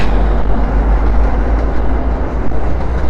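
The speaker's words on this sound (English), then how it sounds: "there's a train going by." A train passes close by during an outdoor morning walk, its loud, steady rumble and rattle of cars filling the air without a break.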